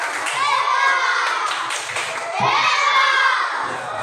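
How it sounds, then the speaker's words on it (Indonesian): A class of children applauds a group after its presentation, clapping mixed with lively shouting and cheering voices, the noisy crowd sound swelling again near the end. "Ya, tepuk tangan. Tepuk hebat kepada kelompok."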